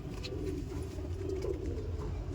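Pigeons coo softly and steadily in a loft, the low murmuring faint under a constant background hum.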